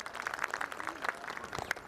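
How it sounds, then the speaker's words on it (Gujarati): Clapping rises from the crowd at a community get-together as a young girl finishes her stage performance, a brief burst of mixed hand claps with a murmur of people. "એ આપણે દીકરીને પણ તાળીઓથી વધાવી લઈએ"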